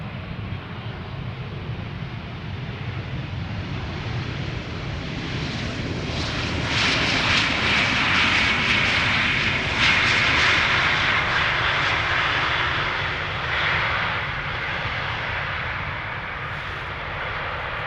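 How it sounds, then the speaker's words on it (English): British Airways flight 430 from London Heathrow arriving at Schiphol Airport, a jet airliner's engine roar swelling as it passes near, then fading gradually, with a steady broadband rumble throughout. "Arrival from London Heathrow, BA flight 430."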